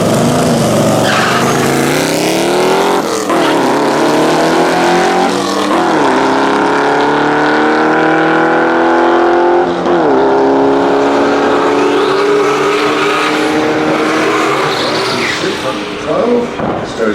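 A Reliant Scimitar drag racing side by side with another car at a UK multi-track drag event, loud engines revving hard through repeated gear changes with rising and falling pitch, close and continuous.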